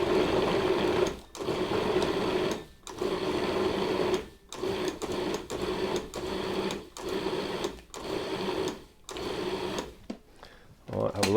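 A food processor pulses flour and butter into coarse crumbs for a caramel apple cobbler: loud, close motor bursts of a second or two, separated by short pauses, repeating through the clip.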